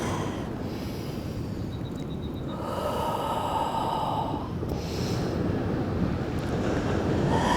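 Ocean waves wash continuously onto a Southern California beach, a steady roaring surf with strong wind buffeting, loud and close throughout with no voices.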